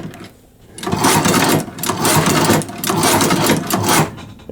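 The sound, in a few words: leather sewing machine stitching a back stitch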